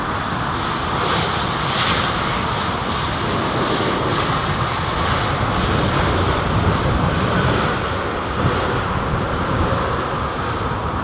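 A Swiss Airbus A320neo jet at London Heathrow Airport, a loud steady engine roar with broad rushing noise and wind buffeting, sustained without break and no speech.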